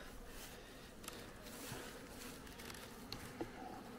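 Honeybees hum in a freshly opened hive being inspected for brood disease, a soft steady buzzing swarm nearby with occasional faint knocks and no talking.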